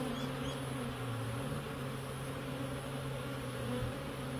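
Honeybees joining a hive colony make a steady, dense buzz, a continuous low drone that stays even and moderately close throughout with no voices.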